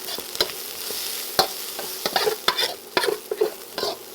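Chicken and vegetables stir-frying in oil in a hot wok on high heat, with a steady loud sizzle broken by repeated sharp scraping and clattering strokes of a spatula tossing the food, close up and with no talk.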